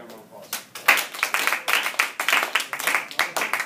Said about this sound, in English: Have a good round of applause.